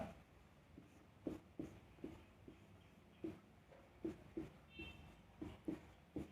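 A pen jots an answer for a class 8 math problem on paper, making a dozen or so short, rhythmic scratchy strokes close to the microphone in a quiet room, with no talking.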